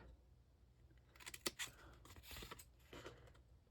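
Scissors cutting paper for a handmade advent calendar, a quiet run of crisp snips and rustles close by, several quick cuts in a row.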